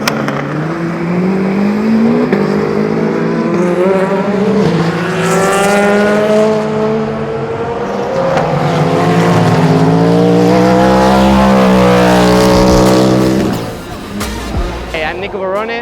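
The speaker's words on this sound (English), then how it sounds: "I'm driving the Cadillac number 2, the Hypercar." Cadillac Hypercar race car, the number 2 car, at a rookie test on the Bahrain track, its engine roaring loud and close with rising and falling revs through gear changes before the sound drops away near the end.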